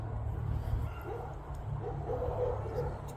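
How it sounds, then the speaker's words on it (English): Neighbouring dogs bark in a residential setting, heard faintly and at a distance as scattered yips beneath a continuous low rumble of background noise. "now the dogs are barking"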